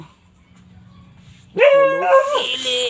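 A dog barks and yips loudly at close range in a rural garden, a sudden drawn-out whining bark after a quiet stretch of faint background hum.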